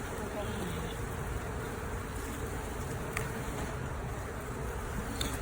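Honey bees buzz steadily inside an open beehive frame with capped brood, a dense continuous hum close to the microphone with no talk.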